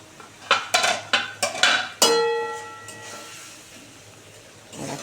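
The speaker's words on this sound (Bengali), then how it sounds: "ঢাকনাটা খুলে একটু নেড়ে দিই।" A metal lid comes off a pot of fish roe curry with a run of sharp clinks and scrapes, then a ringing clang that fades into a low hiss of cooking.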